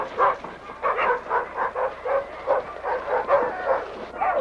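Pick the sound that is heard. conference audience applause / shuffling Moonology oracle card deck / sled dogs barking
sled dogs barking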